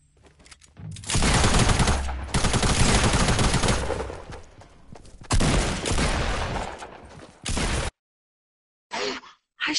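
Shooter video game gunfire, long dense bursts of rapid automatic shots broken by short pauses, loud and close, ending in brief clipped bursts after a silence.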